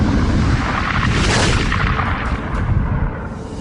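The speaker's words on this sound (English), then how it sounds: "pulsars are formed in these incredible explosions" A loud, deep explosive roar of a supernova, as a red giant star explodes, that swells and rumbles continuously for a few seconds before easing slightly, with no voices.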